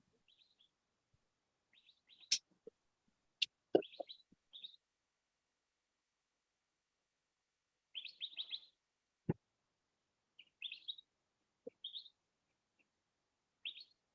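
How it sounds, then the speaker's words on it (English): Small birds chirp and tweet in short, scattered bursts across quiet open air, with high thin calls coming in clusters and a few sharp clicks between long silent gaps. "Yeah, the birds are singing, actually singing."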